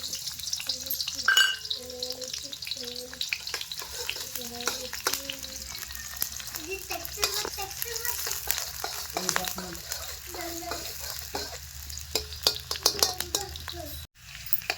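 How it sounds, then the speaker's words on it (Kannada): Chopped onions sizzle and fry in hot oil in a kadai for a brinjal stir-fry, a steady close crackle with occasional stirring scrapes and light utensil clinks throughout, no talking. "ಎಣ್ಣೆ ಹಾಕಿ ಎಣ್ಣೆ ಬದ್ನಿಕಾಯಿ ಪಲ್ಯ ಕಡಾಯಿದಾಗ ಮಾಡ್ಲಿಕ್ಕೆ ಉಳ್ಳಾಗಡ್ಡಿ ಹಾಕೊಳಂಬ್ರಿ"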